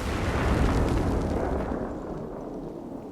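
A loud, close explosion in the action-adventure game Indiana Jones and the Great Circle erupts as a heavy rumbling blast that stays strong before slowly fading into a lingering roar, with no voices.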